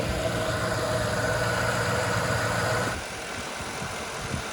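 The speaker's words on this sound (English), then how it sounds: "The engine sounds sturdy. So after like 10 minutes of letting it idle" A car engine idles steadily after repair work, a close, even low rumble with faint vibration that drops to a quieter, rougher idle partway through, with no talking.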